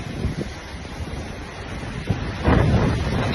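Sea waves crash at Pamban bridge during Cyclone Ditwah, a steady roar of surf and wind buffeting the microphone that swells louder toward the end as water surges in toward nearby homes.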